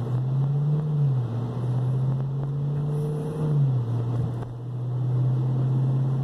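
A vehicle on BFGoodrich g-Force Sport Comp 2 tires drives through cold, light snow at about 30, a steady engine drone with shifting pitch under tire and wind noise, without speech.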